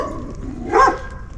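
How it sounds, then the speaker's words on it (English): A single dog bark rings out from a moderate distance on a street, one short sharp bark over quiet background noise. "We're going to take a little break because of this barking dog."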